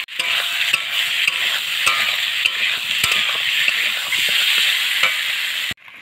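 Boiled potatoes with ground ginger and garlic paste sizzle in a pan while a utensil stirs them with brisk scraping scrapes, a continuous close frying hiss with no talking.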